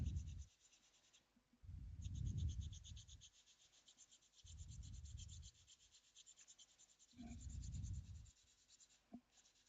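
Pastel pencil scratching across rough paper while drawing a swan, in several separate bursts of raspy strokes with pauses between, close and quiet.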